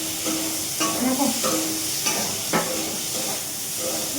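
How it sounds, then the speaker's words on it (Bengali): Sliced bitter gourd and potato fry in a pan with a continuous sizzle and hiss, while a spatula stirs and scrapes through it several times. "উচ্ছে আলু ভাজা হয়ে গেছে।"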